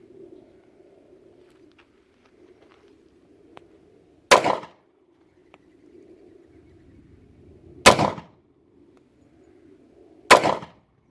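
Three sharp gunshots from a Star PD .45 ACP pistol firing Winchester 230 grain rounds, spaced a few seconds apart, loud and abrupt over quiet outdoor background with faint birds cooing.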